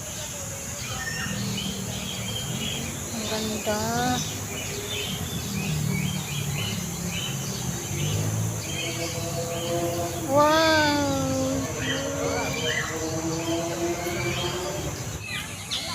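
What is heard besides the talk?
noisy birds calling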